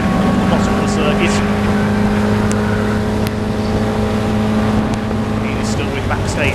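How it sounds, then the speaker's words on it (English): Caterham race cars at Craner curves, their Toyo tyres squealing, with steady engine drone and a sustained tonal whine throughout, loud and continuous over the roar. "They're squealing these Toyo tyres as they make their way to the bottom of the circuit"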